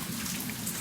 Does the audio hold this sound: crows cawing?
no